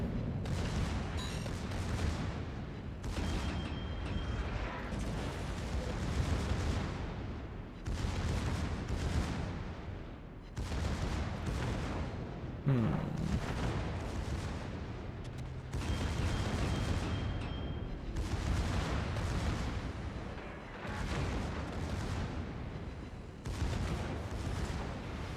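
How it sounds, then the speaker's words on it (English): Battleship broadsides in a naval combat video game, including fire from the Japanese battleship Fuso, with heavy booming salvos and rumbling blasts repeating steadily for the whole stretch, loud and dense, with no talk over them. "The Fuso's shooting at me, though, which is odd."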